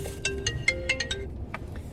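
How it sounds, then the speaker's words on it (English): A phone ringtone sounds at a campus safety office, with a short series of rapid electronic tones over a low background hum. "Oh my God, it's ringing again."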